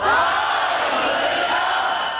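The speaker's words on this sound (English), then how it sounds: "tens of thousands cheer for Mr. Hodag" A large festival crowd at the Hodag Country Festival cheers and roars in a loud, continuous wash of voices that swells slightly and holds steady.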